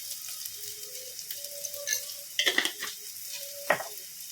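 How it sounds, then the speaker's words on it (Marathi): Onion sautés in a pan, a soft continuous sizzle broken by a few scraping clinks of the spatula against the metal, close and fairly quiet. "कांदा चांगला गुलाबी होईस्तोवर आपण त्याला परतणार आहोत"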